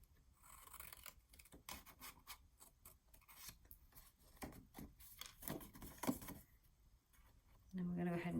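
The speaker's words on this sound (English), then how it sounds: "So I cut off this little square here, and then I'm going to move along to the top and cut this off." Scissors snipping through a paper seed packet for a handmade mini album, a run of short crisp cuts and rasps close up, with a louder steady rustle near the end.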